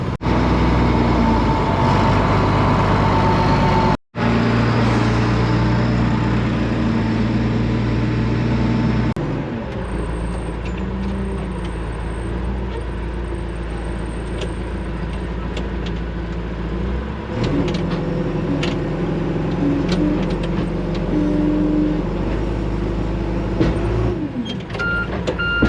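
A tractor powers a PTO-driven feed mixer. It runs as a loud, continuous low engine and machinery drone with shifting mechanical rumble and clatter, close up, with no speech.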